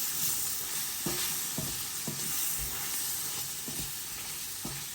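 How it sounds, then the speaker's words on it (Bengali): A katla fish head frying with cumin powder in a pan, a constant hissing sizzle broken by repeated scraping strokes of a stirring spatula about every half second, close and steady, with no voices. "মাছের মাথা তো একটু জিরার গুঁড়ি, একটু লাড়ি লই।"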